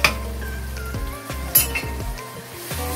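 A spoon stirs and roasts spices with kasuri methi in a pan for a dhaba-style aloo gobhi matar sabzi, giving repeated sharp metallic clinks and scrapes against the pan over a faint, steady sizzle.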